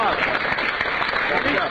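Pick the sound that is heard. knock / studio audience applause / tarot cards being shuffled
studio audience applause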